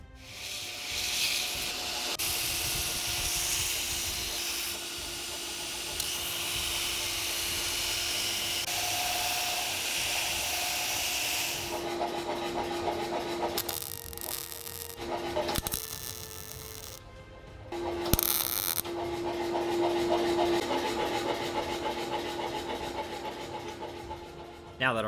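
An angle grinder does surface prep on 100-year-old forged anchor chain steel, giving a steady, hissing, grinding whine with a low hum. Midway it breaks into choppier bursts with short pauses.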